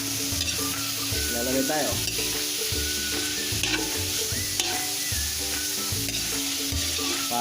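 Meat sizzles loudly in a pan while its fat renders for pancit bato, with continuous frying crackle and repeated stirring and scraping strokes, and a brief voice speaks over it.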